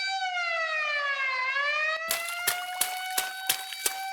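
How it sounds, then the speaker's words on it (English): A loud electronic alarm siren sweeps down in pitch and then holds a steady wail, with sharp clanking impacts striking at regular intervals in the second half. "Hit the alarms."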